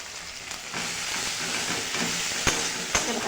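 Ginger, garlic and green chilli pastes with turmeric sizzle steadily in hot oil for a fish curry, a continuous close hiss with a couple of sharp spatters or stirring knocks.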